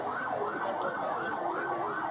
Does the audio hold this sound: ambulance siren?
yes